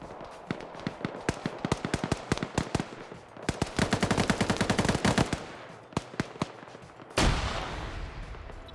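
Gunfire in a multiplayer shooter game: rapid bursts of close automatic fire, irregular single shots, then a dense sustained volley and a loud blast, with faint background talk.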